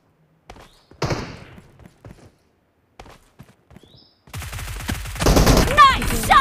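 Gunfire in the video game BGMI during a team deathmatch, with sharp isolated shots at first, then dense rapid bursts and loud sustained firing near the end.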